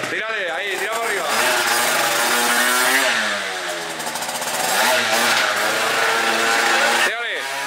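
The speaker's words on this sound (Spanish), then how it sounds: "Así se calientan los ciclomotores" Moped engine warming up in a workshop, revving repeatedly with rising and falling pitch sweeps, loud and close, with people talking over it throughout.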